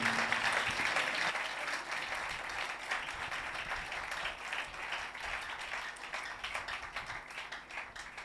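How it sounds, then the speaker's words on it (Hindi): A church congregation breaks into loud, sustained applause that fills the hall, steady dense clapping that eases slightly in intensity over several seconds. "आइए ज़ोरदार तालियां उसके जलाल के लिए हम बजाएंगे।"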